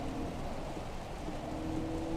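Rain patters steadily on a car windshield in the Assetto Corsa Evo racing game, a soft, even hiss of drops mixed with a low engine drone, with no voices.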